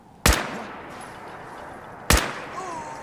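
Two sharp gunshots ring out in the video game Fallout 4, about two seconds apart, each a loud sudden crack with a short decaying tail over a quiet background.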